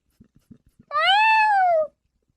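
A cat lets out a single drawn-out meow, loud and close, after a few faint soft taps.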